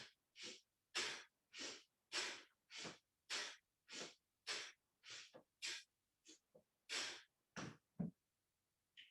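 Rapid forceful bellows breaths of Bhastrika pranayama during a yoga class, about fifteen sharp rhythmic nasal bursts in a steady run, close and clear with no talking.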